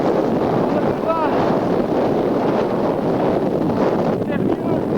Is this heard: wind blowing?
yes